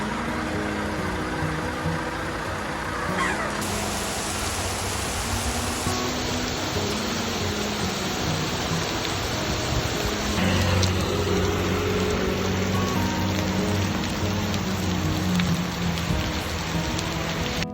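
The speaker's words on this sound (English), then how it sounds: "Oh wow, it's raining again." Steady rain pours down on a cycling route along the Peru Divide, a dense, constant hiss of drops striking surfaces that runs unbroken from start to finish, with a low engine-like rumble faintly beneath and no voices.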